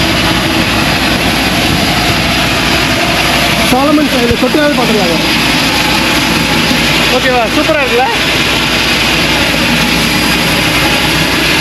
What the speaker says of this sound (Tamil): அவ்வளோதாங்க, தலை சொல்லிட்டாங்க, கிளம்புறாங்க ஃப்ளைட்டு